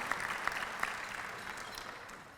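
An audience at the 2022 Virginia Beach Tourism Awards Luncheon applauds, a steady moderate patter of clapping running the whole short stretch at an even level.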